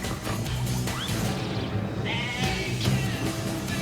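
Goats bleat amid crashing, chaotic game sound effects from Goat Simulator, short cries cutting through dense clatter and music-like noise at a fairly loud level.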